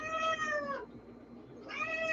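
A cat meows twice up close, two loud drawn-out cries separated by a brief pause, with faint room noise beneath and no talking.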